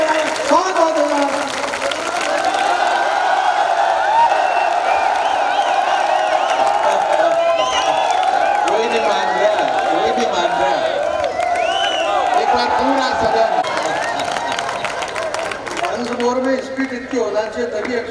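Audience applause and cheering at an evening Hindi poetry recital during a Dussehra fair in Banswara, a loud, sustained crowd roar with clapping and some whoops lasting throughout, with voices mixed in.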